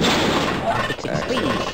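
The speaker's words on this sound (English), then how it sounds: "Explosion!" Explosion in the co-op shooter Sven Co-op, a dense sustained roar of blast and crackling debris filling the whole moment, loud and close, with players' voices mixed underneath.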